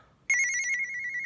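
A phone ringtone for an outgoing call sounds outdoors in thick woods, a sudden steady electronic tone that starts after a short quiet pause and holds, moderately loud.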